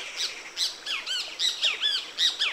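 Birds by the Huatulco River give repeated squawking calls, about eight sharp bursts in steady succession, close and clear over a faint background hiss.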